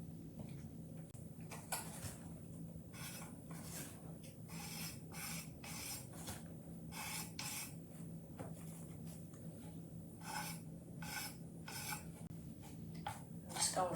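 Edges of a painted lamp being rubbed to distress the finish: quiet, rhythmic rasping strokes, roughly a dozen short bursts at an uneven pace, close but faint over a low steady background hum.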